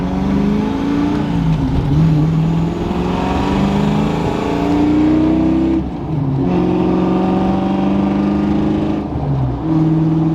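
A Ford Galaxie's engine hums and revs steadily at moderate RPM, rising and settling in pitch with brief dips, loud and close throughout with no talking.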